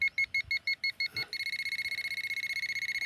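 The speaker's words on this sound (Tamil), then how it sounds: "இந்த மாதிரி ஒரு சத்தம் பீப்பு சத்தம் வந்து நெருக்கமாக கேட்கும்." A metal detector beeps near buried metal, first as separate evenly spaced tones, then as a faster, near-continuous pulsing beep, clear and close with no talking.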